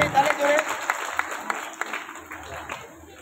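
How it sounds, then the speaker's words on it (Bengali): Children clap for Suman at a cultural evening event, a busy patter of hands that starts fuller and thins toward the end, with a voice speaking over it. "তো সুমনের জন্য তোমার বাচ্চারা সবাই একটা হাততালি দিতে হবে।"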